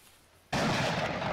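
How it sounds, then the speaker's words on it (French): In the video game Iron Front 1944 on ArmA 3, after a quiet moment, a sudden loud explosion bursts in and rumbles on as a sustained roar. "Oh, belle explosion."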